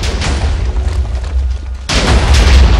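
Huge Minecraft TNT blast of more than 600,000 blocks: loud, continuous booming rumble with crackling bursts, briefly easing, then surging back even louder near the end.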